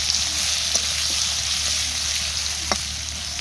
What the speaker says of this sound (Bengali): সেখানে কিন্তু জিরে ফোড়ন দিয়ে আমি কাঁচা কলাটা একটু ভাজতে দিয়ে দিলাম